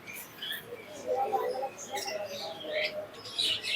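A pair of grey parrots offered for sale give quiet, scattered high chirps and tweets in short intermittent bursts, fairly close but soft over a low background murmur.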